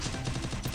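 Rapid automatic gunfire spam from a Garena Free Fire match, a dense burst of shots fired in quick succession, loud and continuous with no talk.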